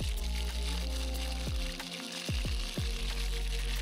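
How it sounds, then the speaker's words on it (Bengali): Mustard oil poured into a frying pan (kadai) while cooking Bengali prawn malai curry, a steady liquid stream heard close up and alone, without talk. "এবার আমি কড়াতে সর্ষের তেল দিচ্ছি।"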